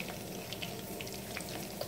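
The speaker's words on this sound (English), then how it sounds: "now I'm adding my onions" Onions tumble into a cooking pot of hot oil with small onions and crayfish, giving a faint, steady sizzle with occasional soft crackles, close by and alone.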